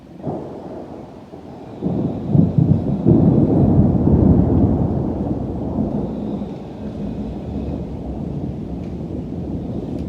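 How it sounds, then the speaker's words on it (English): A summer thunderstorm with deep rolling thunder building and rumbling on for several seconds over a steady wash of rain and wind buffeting the microphone, no voices present. "It's a nice when a storm comes, breaks up the old heat of the day."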